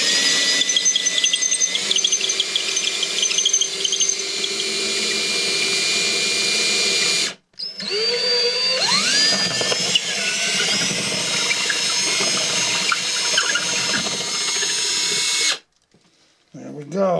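A power drill whines continuously and loudly, grinding through hardened plaster on an N scale model layout, with a brief stop partway through and a pitch that rises as it bites.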